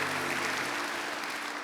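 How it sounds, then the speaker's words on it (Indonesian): A church congregation at a worship service claps steadily, a dense, even wash of applause from a crowd that holds at a constant level for the whole stretch, with a faint low hum underneath. "Tepuk tangan dulu buat Tuhan"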